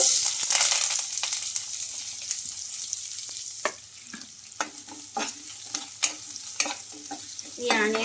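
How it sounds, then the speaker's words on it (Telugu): Chopped onions, green chillies and curry leaves fry in hot oil with roasted lentils, a loud crackling sizzle at first that settles into a softer fry, punctuated by spatula scrapes and stirs, close up and without talk. "ఆనియన్స్ అయితే కొంచెం ఒక రెండు నిమిషాలు అయితే ఫ్రై చేసుకోవాలి"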